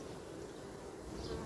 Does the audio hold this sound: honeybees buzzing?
yes